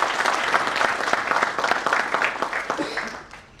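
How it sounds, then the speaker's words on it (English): Audience applause at an annual fitness-industry event, steady dense clapping that holds for a few seconds before tapering off near the end, with a few voices mixed in. "Let's clap for him."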